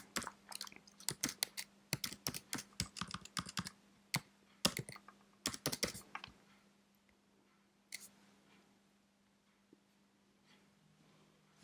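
Quick bursts of keystrokes on a computer keyboard, close and crisp, in irregular clusters over a faint steady hum, then trailing off into a few isolated taps and near silence.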